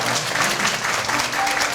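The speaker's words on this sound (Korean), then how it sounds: "박수 한번 부탁드리겠습니다." Wedding guests clap for the bride and groom after the ring exchange, a brief, full burst of crowd applause with steady, close clapping.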